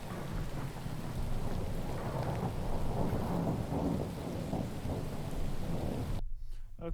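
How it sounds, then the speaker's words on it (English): Heavy rain pours steadily during a thunderstorm, with a low rumble of thunder rolling beneath the dense hiss. It continues evenly before cutting off abruptly near the end. "That's the rain falling down."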